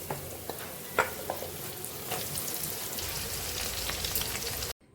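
Crispy corn frying in hot oil over a low flame, a steady dense sizzle with a few brief sharp crackles and pops, close and continuous, cutting off abruptly at the end.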